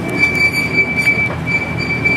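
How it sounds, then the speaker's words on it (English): Gatorland Express, a small tourist train, rumbling steadily along its track with a sustained high wheel squeal running throughout, loud and close, with no voices. "I ride the train at Gatorland"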